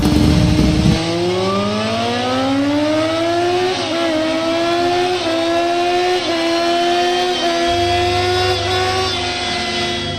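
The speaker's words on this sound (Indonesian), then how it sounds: "langsung Inu nyalain motor, langsung dia pulang" A motorcycle engine runs steadily and revs, its pitch climbing as it pulls away, loud and close throughout with no voices.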